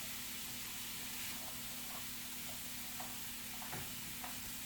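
Vegetables fry in a pan while being stirred, a faint, continuous hiss and sizzle with a few soft scrapes, no talking.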